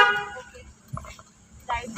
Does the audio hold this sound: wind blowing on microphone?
no